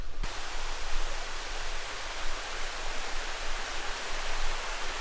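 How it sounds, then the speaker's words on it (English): Waterfall along a forest path at a spring in Rainbow Springs State Park, Florida: a steady, dense broadband rush of falling water, close and loud, continuous without break. "This is the first waterfall on the path."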